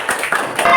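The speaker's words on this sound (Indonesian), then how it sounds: "Baik, tepuk tangan." A classroom of schoolchildren applauds on cue from the teacher, a short burst of loud, close clapping with overlapping claps.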